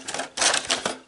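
A small Yu-Gi-Oh card box is closed with a few quick, light clicks and taps of cardboard, close and fairly soft, lasting about a second.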